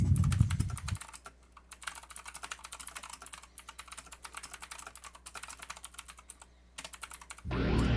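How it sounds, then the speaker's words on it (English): Rapid computer keyboard typing runs steadily for several seconds at close range, with bursts of keystrokes and brief pauses, heard during an online game session. "I can hear you typing up a storm."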